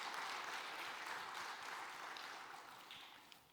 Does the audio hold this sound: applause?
yes